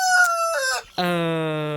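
A rooster of a red-azure crossbreed crows nearby in a backyard poultry pen, several drawn-out bugling calls in quick succession, loud and clear with no talk over it.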